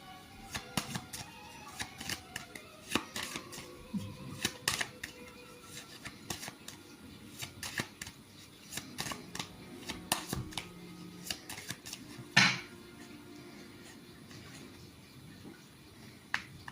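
Tarot cards laid out one by one on a table, three cards placed for a reading, with soft, close taps and slides spaced irregularly, a single louder snap near the end, and no voice.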